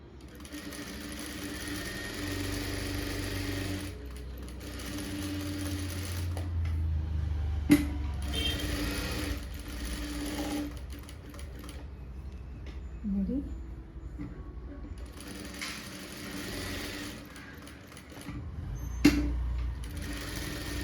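A sewing machine stitches a blouse patti (band) in bursts of rapid mechanical whirring separated by pauses, with someone speaking in Tamil between runs and a couple of sharp clicks.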